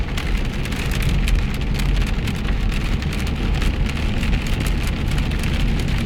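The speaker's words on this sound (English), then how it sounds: "Hammering rain." Heavy rain hammers down at midnight in Charlottetown, Prince Edward Island, a loud, dense, continuous roar of drops pounding surfaces close by, steady throughout with no talking.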